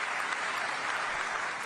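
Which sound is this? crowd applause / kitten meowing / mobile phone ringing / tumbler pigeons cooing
crowd applause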